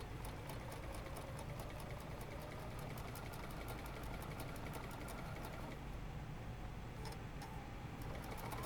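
A sewing machine stitches fabric for a puppet, running continuously with a rapid, even mechanical chatter close up and a faint motor hum underneath throughout.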